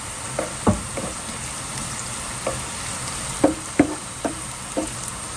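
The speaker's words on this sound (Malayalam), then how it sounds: "ഇഞ്ചി വെളുത്തുള്ളി പിന്നെ നമ്മുടെ പച്ചമുളക് അത് ഇട്ട് കൊടുത്തിട്ട് നമുക്ക് നല്ലോണം ഒന്ന് വഴറ്റിയെടുക്കാം" Onion, ginger, garlic and green chilli sautéing in a pan give off a low frying hiss, broken by several sharp utensil knocks and scrapes spaced irregularly through the stretch, with no talking.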